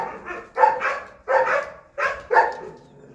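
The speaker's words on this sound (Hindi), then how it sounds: "क्यों भौंक रहे हैं ऐसे" Dogs barking at home, four sharp, loud barks in quick succession, close by and without talk.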